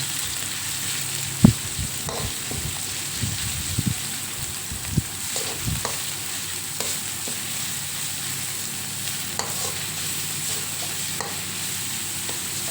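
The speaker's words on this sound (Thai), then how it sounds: "กระเทียมเริ่มหอมเริ่มเหลืองก็ใส่หมู ลงไปผัดให้สุกนะคะ" Pork tossed with garlic in a pan, cooking for a stir-fried cabbage dish, giving a steady hiss of frying broken by sparse spatula knocks and scrapes, no voices.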